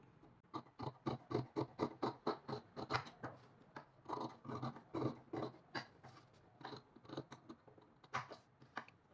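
Scissors snipping through fabric while cutting a pleated kurti, a quick run of rhythmic crisp cuts that pause briefly and then resume, close and fairly quiet.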